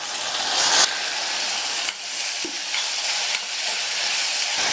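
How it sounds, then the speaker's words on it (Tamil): Onions, green chillies and tomatoes fry in a pan with a continuous close sizzle, broken by a few sharp utensil taps and stirring scrapes, no voices. "இந்த வெங்காயம் வதங்கி கண்ணாடி பழம் வரட்டும்"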